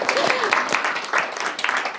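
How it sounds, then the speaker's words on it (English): Audience applause at a residents' final presentations event, a short burst of scattered hand claps mixed with voices, fairly close and moderately loud. "Let's clap."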